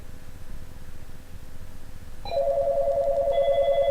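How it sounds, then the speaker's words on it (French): Office telephone lines ringing: a quiet room hum, then a sudden loud electronic ring tone that continues steadily, joined by a second fainter tone. "la ligne 4 sonne"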